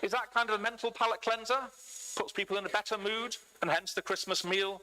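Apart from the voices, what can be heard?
None of the usual background noises is heard.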